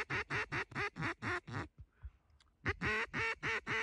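Repeated loud, close quacking in regular bursts during an opening-day duck hunt in Michigan: a run of seven calls, a short pause with faint rustling, then four more quacks, resembling a hunter's duck call.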